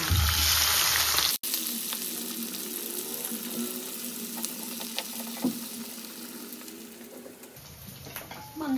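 Onion, bay leaf and green chili sizzle in hot oil, a steady close frying hiss with faint scattered crackles. It follows a brief louder rush of noise that cuts off abruptly, and no one speaks.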